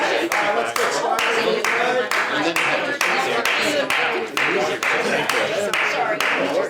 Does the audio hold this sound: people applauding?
yes